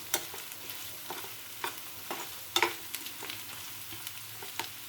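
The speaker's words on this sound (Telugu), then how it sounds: "కారం వేసినాక కొంచెం టూ మినిట్స్ అటు ఇటు ఫ్రై చేస్తే కలిసిపోద్ది" Potato fry with chili powder sizzles in a pan while being stirred, a soft steady frying hiss broken by quiet scrapes and clinks of the spoon, with no talking.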